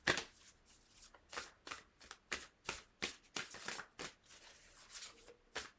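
A Messages from the Stars oracle card deck is shuffled in a quiet room, a string of crisp, papery riffles and slaps in an uneven rhythm, close and soft with no talking.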